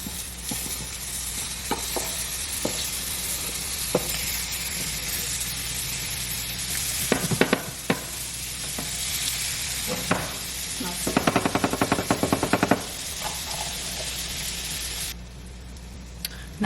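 French toast sizzles in butter in a pan at a steady, continuous level, with scattered clatters and a burst of rapid scraping taps from a utensil working the pan near the end.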